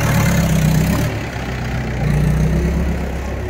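Heavy engines of a JCB and tractors moving soil from a pond to a bank, a loud, close, continuous low rumble that dips briefly then rises again.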